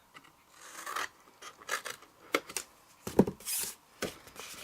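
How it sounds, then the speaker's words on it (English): Scissors cutting through a card panel in short, quiet snips and rasps with gaps between, close and faint. "On this last panel here, you want to cut straight up to that first score line on here."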